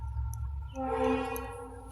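A train rumbles past at close range while its horn sounds a long, steady blast over the heavy low roar of the wheels.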